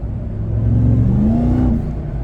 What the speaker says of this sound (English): the supercharger has more of a whine to it than Ford's